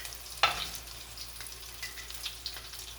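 Corn fritter batter dropped into hot oil in a pot, a sharp splash-sizzle at the start settling into a steady, moderate frying crackle with soft bubbling throughout.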